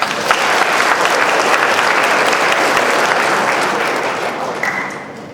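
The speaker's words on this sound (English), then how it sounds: "Let's give her a round of applause" Audience at a lecture on Asian-American student leadership breaking into strong, dense applause that holds steady for several seconds before tapering off slightly at the end.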